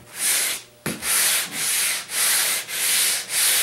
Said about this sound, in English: Now I can take my sanding block